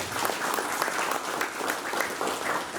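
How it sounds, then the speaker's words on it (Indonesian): An audience of officials in a Satpol PP and fire department office in Temanggung claps during a Ramadan religious talk, a moderately faint, steady patter of many hands. "Aplaus dan tepuk tangan untuk kita semua."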